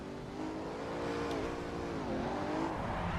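Race car engine in Assetto Corsa revs under load, a loud sustained drone that rises, dips and climbs again, heard alone without talk.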